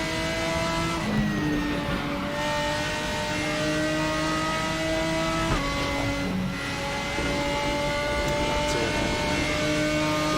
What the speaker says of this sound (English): enjoying the sounds of these race cars, because they do sound fantastic in RaceRoom